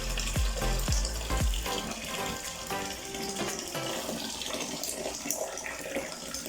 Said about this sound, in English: now another litre of boiling water, there's about a litre in here. So we'll clip all that in.